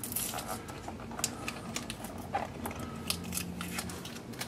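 Tape peeled off a part of an Axial Yeti RC car in a quiet room, giving several short crackling, sticky tearing bursts spread irregularly across a few seconds at moderate loudness, with no talk.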